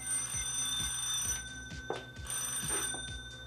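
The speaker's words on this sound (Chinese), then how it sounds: "苏云，你的电话。" A telephone rings with a steady electronic bell tone repeating in a regular rhythm, fairly faint and slightly distant, alone without any talk.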